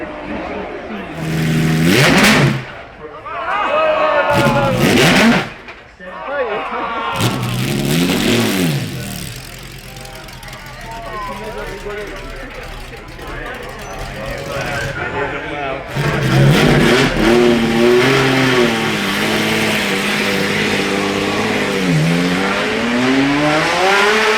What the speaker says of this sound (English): It's another Ferrari on the hill